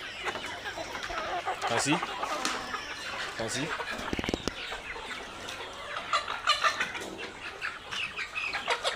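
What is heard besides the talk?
layer hens clucking in poultry farm cages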